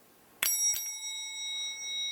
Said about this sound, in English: Cal Banyan with his Hypno Bell,